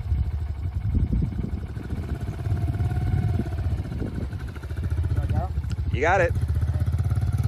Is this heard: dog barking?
no